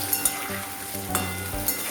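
Carrots, cauliflower and other mixed vegetables fry in oil for a quick pickle, giving a loud, steady close sizzle with a few small pops and no voices.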